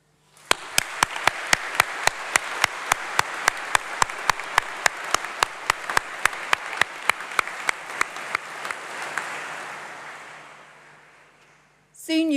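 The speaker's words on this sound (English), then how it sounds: "please give a round of applause and huge cheer to say thank you to all of your supporters" Graduation ceremony audience applauding at a university congregation, a sustained roar of clapping with sharp, regular louder claps cutting through, fading toward the end before a voice begins.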